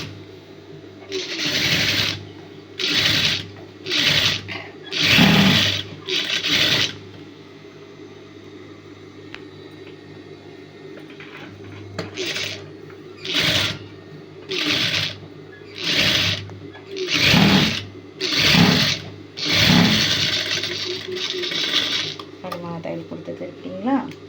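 A sewing machine stitches a shoulder seam on a blouse in repeated short bursts of whirring, several runs in each half separated by pauses, close and clear with a faint background hum between runs.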